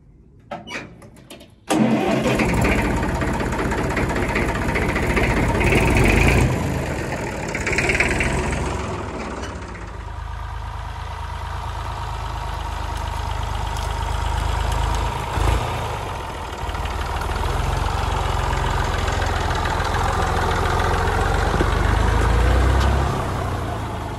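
A Massey Ferguson 35 tractor engine cranks and fires after about two seconds, then runs at a loud, steady, low idle close by for the rest of the clip, with small shifts in tone and no talk.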